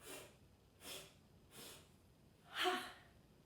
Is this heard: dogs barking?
no